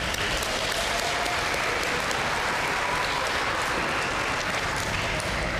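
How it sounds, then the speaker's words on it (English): An audience at a Boston Public Schools and Boston Bruins partnership announcement applauds Jessica Green with steady, dense clapping that stays at an even level throughout. "Why don't we give her a round of applause"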